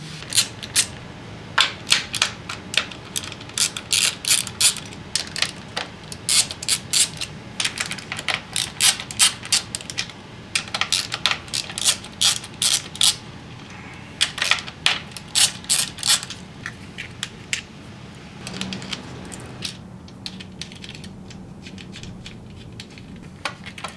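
A ratchet wrench works 10mm bolts and nuts loose on a Honda Civic 1.7L SOHC engine, giving long runs of rapid, crisp mechanical clicks in bursts with short pauses, close and fairly loud.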